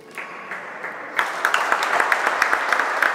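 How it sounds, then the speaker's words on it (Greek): Crowd applause at a Greek futsal semifinal, steady clapping from the stands that rises and grows denser partway through, heard without commentary. "Και φυσικά θα πάρει το μεγάλο χειροκρότημα."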